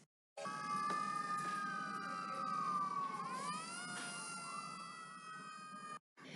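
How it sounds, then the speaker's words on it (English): A police car or fire truck siren wails continuously, its pitch sweeping down and back up, loud and steady, then cuts off abruptly. "Did you guess siren, like on a police car or a fire truck?"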